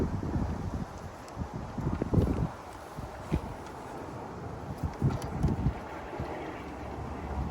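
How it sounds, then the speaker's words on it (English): Wind gusting outdoors across a microphone, a low rumbling buffet that swells and fades unevenly throughout, fairly quiet with no talk. "Wind is blowing."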